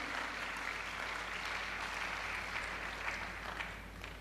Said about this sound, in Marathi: अहो टाळ्या वाजवा की